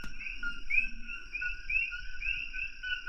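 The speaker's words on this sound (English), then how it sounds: "Listening to the frogs." Frogs call at night near a lanai sitting area, a steady high trilling chorus pulsing in a fast repeating rhythm over quiet background.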